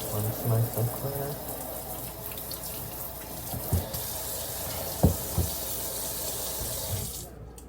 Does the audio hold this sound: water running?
yes